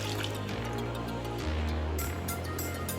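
Water is poured into a pressure cooker holding mutton trotters with turmeric, a close, continuous splashing and filling sound with some dripping over a low steady hum.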